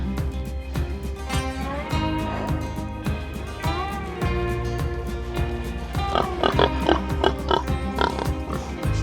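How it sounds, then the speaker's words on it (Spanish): Pigs on a high mountain trail near the Jima and Berro waterfalls in the Dominican Republic, grunting and squealing in repeated bursts close by, the calls growing busier and more clipped toward the end. "Estos cerdos viven por acá, tan alto."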